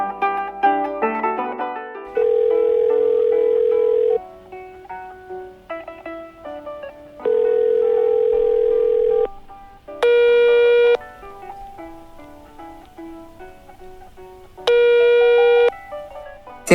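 A telephone rings in a French-language radio drama, a synthetic electronic tone repeating in steady bursts of about two seconds with gaps between, sitting over a faint background with no talk.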